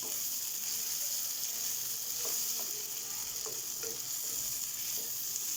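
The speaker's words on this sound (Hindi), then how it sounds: "अब इस स्टेज में हम ये हरी मिर्चें डाल देंगे, टमाटर डाल देंगे, इनको भी हम अच्छे तरीके से हिला देंगे।" Green chillies and tomatoes frying with ginger and garlic in a pan, a steady close sizzle broken by a few light scraping stirs, with no voices.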